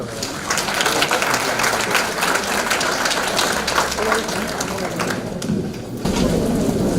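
Sustained applause from a seminar audience, a dense steady wash of clapping that fills the whole stretch and swells slightly toward the end.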